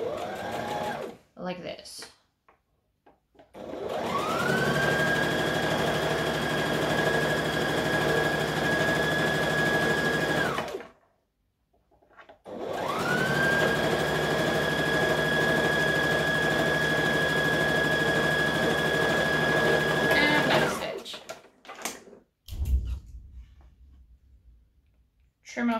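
A sewing machine top stitches a folded, overlocked hem, running in two long steady whirring passes with a short pause between, close and loud, with a few words of talk before and after.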